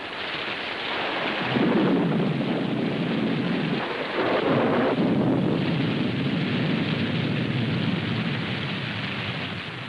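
Steady heavy rain pours down with wind buffeting outdoors at night, dense and continuous throughout, with low rumbling like thunder swelling from about two seconds in.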